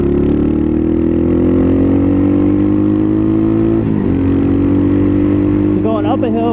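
An Apollo 250cc dirt bike engine drones steadily as the bike climbs a hill, holding a strained, rising pitch close to the rider, then shifting and revving near the end while a voice talks over it.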